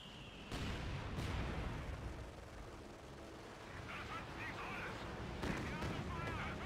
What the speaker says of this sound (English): We got Katusha Barrage coming on in,